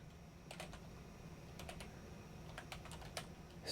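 Someone types on a computer keyboard nearby, tapping soft, quiet keystrokes in short irregular clusters over a faint room hum.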